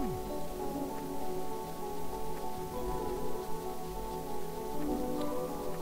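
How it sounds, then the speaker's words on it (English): Rain falling in the Orcish Inn video game, a steady soft patter that holds through the whole stretch beneath a tonal music bed, with a few faint ticks. "Eventually, it rains in the game, and all these barrels fill up with water."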